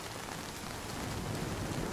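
Rain falling in the survival video game Nightingale, a soft, even hiss of steady downpour that stays faint and constant throughout, with no voices.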